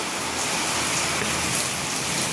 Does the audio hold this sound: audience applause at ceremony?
no